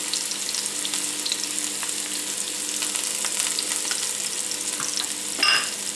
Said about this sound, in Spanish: Y cuando esté calentito, pues voy a poner la cebolla